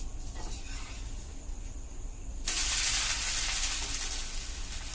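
Pesarattu, a mung bean dosa, frying in ghee on a pan as it is flipped: a low steady sizzle that jumps to a louder, brighter hiss halfway through and holds there, close and alone.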